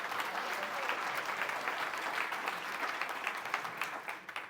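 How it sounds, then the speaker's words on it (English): Audience applause at a Master Gardeners awards meeting, a steady wash of many hands clapping that fills the room at moderate level for several seconds without talk over it. "So let's give him a round of applause even though he's not here."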